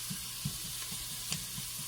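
Vegetables with pepper and Italian seasoning sauté in a pan, a quiet, even sizzle with soft rhythmic stirring knocks at a steady pace, no voice.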